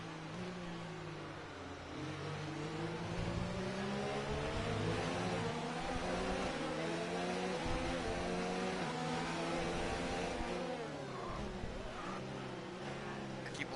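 Formula 1 race cars in a video game at the Hungary circuit, several engines wailing and shifting gears in layered, rising and falling harmonic tones, loud and continuous throughout with no pauses.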